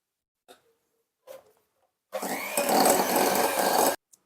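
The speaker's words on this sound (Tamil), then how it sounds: "இதை கொஞ்சம் கொஞ்சமாக சேர்த்து இது கூட நாம் விஸ்க் பண்ணணும்" An electric whisk whips sugar into batter for a chocolate lemon tea cake: a few soft knocks, then close, loud steady motor whirring for about two seconds before it stops abruptly.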